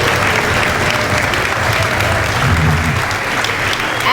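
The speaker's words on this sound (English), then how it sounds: "Let's give him a round of applause for joining us today." Sustained audience applause fills a school letter-of-intent signing ceremony, a dense, steady wash of clapping from a large crowd that holds at a constant level throughout with no speech over it.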